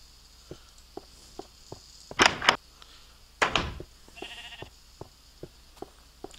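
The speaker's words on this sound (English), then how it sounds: "Gray sheep, a black sheep, a white sheep." Sheep in the video game Minecraft let out a few short, close bleats amid a steady run of soft rhythmic clicks, with a brief whining tone partway through.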